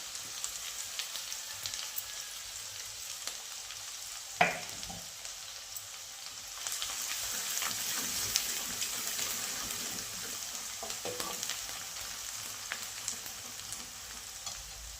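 Vegetables sautéing in hot oil with mustard seeds, cumin, coriander, coconut and garlic, giving a steady close sizzle with occasional spatula scrapes and one sharp clatter.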